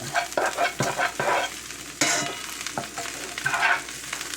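Wet fresh mint hits a hot skillet during wild-game pasta cooking, giving a steady loud sizzle broken by scraping stirs and spatula knocks, close up with no talking.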